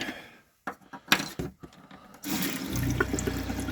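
Water runs from a tap in an RV bathroom, a steady close rushing flow that starts partway through after a few handling knocks and clatters.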